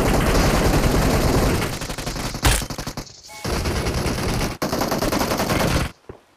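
Dense machine gun fire in a video game: sustained rapid bursts with heavy booming impacts, a brief pause near the middle, then renewed loud firing that cuts off abruptly near the end.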